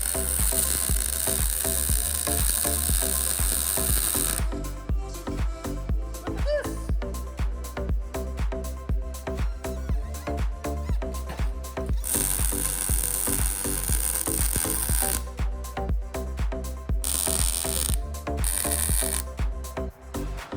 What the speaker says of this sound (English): Now let's weld this.